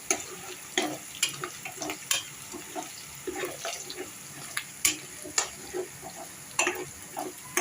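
Pieces stir-fried in a pan for egg fried rice, with repeated sharp spatula clacks and scrapes over a soft sizzle, close and fairly loud, no talking.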